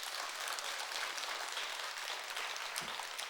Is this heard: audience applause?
yes